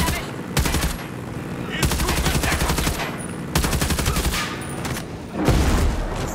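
Video-game gunfire aimed at the player: loud, rapid machine-gun bursts repeat in several sustained volleys with brief gaps, alone without talk.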